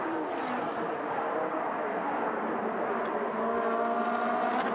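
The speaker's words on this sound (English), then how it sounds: "Great to hear Stefano Guy working that gearbox" Race car engine at the Trofeo Pirelli round at Monza, a continuous high revving drone with shifting pitch as gears change, heard from a distance.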